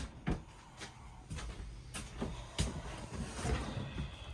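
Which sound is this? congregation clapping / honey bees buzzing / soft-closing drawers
soft-closing drawers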